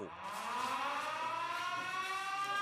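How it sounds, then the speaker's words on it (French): A civil defense siren sounds at 8:00 to mark the start of a national exam in Benin, a sustained, wailing tone that is distant and continuous across the whole stretch. "avant que la sirène ne retentisse à 8h00"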